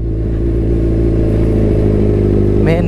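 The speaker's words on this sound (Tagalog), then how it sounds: "Daming motor." Many motorcycles pass on a road in Mansalay, Oriental Mindoro, their engines making a loud, continuous, close-up drone that rises near the end, with no talking.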